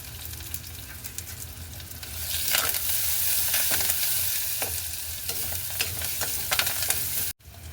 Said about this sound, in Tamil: இப்போ வெங்காயம் சேர்ந்து வதங்கி கொண்டு ஒரு நடுப்பதத்தில் வந்துட்டுது